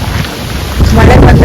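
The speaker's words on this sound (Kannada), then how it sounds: "ಎಷ್ಟು ಗಾಳಿ ಇದೆ ನೋಡಿ, ಎಷ್ಟು ಗಾಳಿ ಇದೆ" Strong gusting wind buffets the microphone outdoors before rain, a loud roaring rush that swells toward the end of the short burst.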